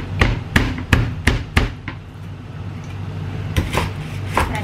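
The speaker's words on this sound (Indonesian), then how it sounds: "Kepalanya itu kalau bisa itu dibelah jadi dua biar nggak terlalu" A fish head is split in two on a board for a steamed fish dish, a series of sharp, loud blade thwacks: six evenly spaced chops, a pause, then several more strikes, with no talk.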